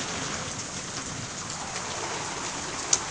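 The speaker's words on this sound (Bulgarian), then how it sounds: "Не е виждана градушка." Steady dense patter of large hail striking surfaces, a continuous hiss with one sharper impact near the end, no voices.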